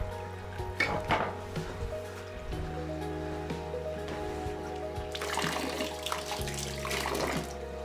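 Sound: water running from a stone village spring

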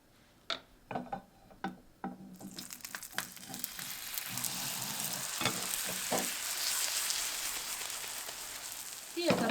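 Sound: pastry frying in oil in a pan

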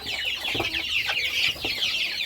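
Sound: bantam chickens clucking

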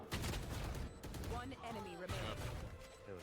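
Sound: gunfire in a video game

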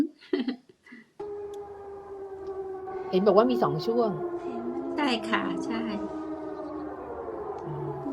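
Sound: civil defense warning siren

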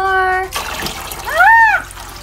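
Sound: water pouring into Playmobil aquarium playset

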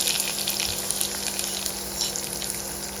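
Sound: frying nenam in hot oil

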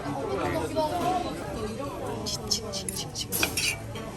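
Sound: cutting chicken with cutlery on plates

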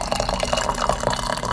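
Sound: pouring boiled water to make tea

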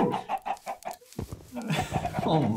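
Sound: chickens clucking in Minecraft video game

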